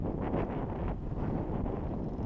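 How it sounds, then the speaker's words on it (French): Steady wind buffets a boat running under motor on open water, a continuous broadband rush with gusty swells, loud and close with no speech over it. "Je vois qu'on a du vent"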